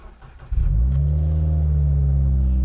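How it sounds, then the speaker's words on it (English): A manual car's engine cranks and catches after a brief moment, then settles into a loud, steady, low idle rumble close by, with no talking. "And now start the car."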